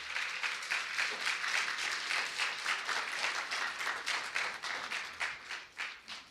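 A church congregation claps together in a sustained round of applause, dense and steady, tapering off toward the end with no one speaking over it.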